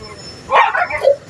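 A dog gives a couple of short, high yips close by, quick barks over a quiet background.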